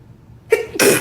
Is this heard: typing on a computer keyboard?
no